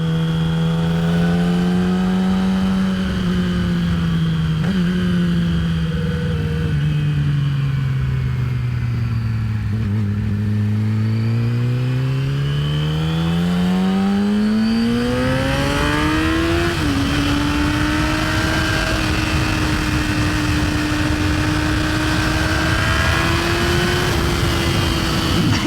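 A Yamaha R6 600cc sport motorcycle engine is heard while riding, droning loud and close throughout, its pitch sagging and then climbing steadily as the revs build, with wind and road roar beneath.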